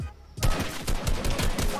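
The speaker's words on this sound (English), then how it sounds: "It's a shotgun." Rapid gunfire from a shotgun in the Fortnite video game, a loud, dense burst of blasts following a brief quiet moment, with no speech over it.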